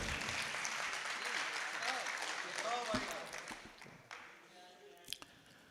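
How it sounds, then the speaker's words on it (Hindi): A mushaira audience breaks into applause, a dense burst of clapping that is loudest at first and fades over several seconds, with some voices mixed in. "तालियां हो जाएं।"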